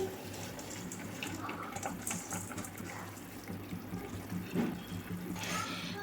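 Soaked rice tips into a pot of boiling water for kuska biryani, a soft watery splash and bubbling rush that runs throughout at low level.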